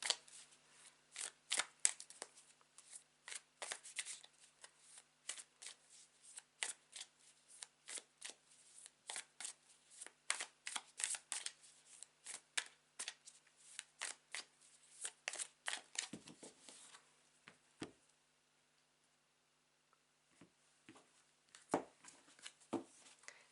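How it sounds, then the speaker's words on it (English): A deck of tarot cards is shuffled again and again, giving crisp riffling and flicking bursts in a fast uneven rhythm, close and fairly quiet, with a brief lull before a few final shuffles. "whilst I shuffle my deck"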